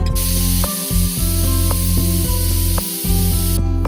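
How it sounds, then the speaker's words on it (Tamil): A pressure cooker whistle blasts steam in a loud, sustained hiss while cooking wheat and lentils, with a steady rattling pulse and brief dips where the valve jostles, then cutting off near the end. "விசில் வந்தாச்சு. இப்போ குக்கர் ஓப்பன் பண்ணி பார்த்துடலாம்."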